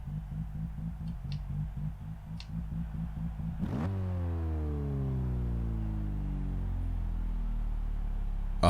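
A rotary 13B engine swapped into a Toyota Corolla in the Forza Motorsport 6 racing game gives a choppy, lumpy idle, then sharply blips and winds down from a high rev. The loud engine is heard alone, with no talking.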